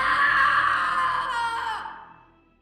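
A single drawn-out scream sound effect for a Halloween horror story, loud and sustained before trailing off into silence, with no speech.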